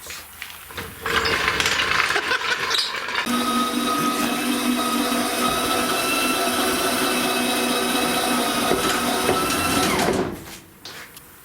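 A steady metallic scraping drone, loud and continuous for about nine seconds, then cutting off abruptly as a hanging suspension part drags beneath a moving Plymouth Cuda.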